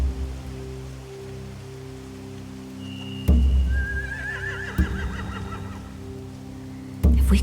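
A horse whinnies in The Walking Dead: The Final Season video game, a rising, wavering neigh over a steady low hum, with a few sharp thuds punctuating the scene.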